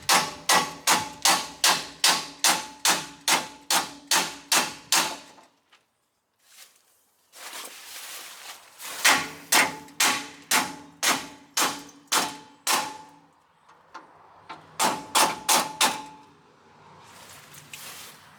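A hammer strikes a stuck radiator bolt on an International truck in a steady run of loud metallic whacks, about a dozen in quick rhythm. A pause follows, then more bursts of rapid blows, close and sharp.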